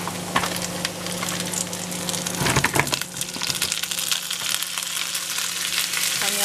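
Shrimp fry in butter with garlic in a pan, giving a steady, close sizzle that runs unbroken, with a few sharper crackles and stir scrapes along the way.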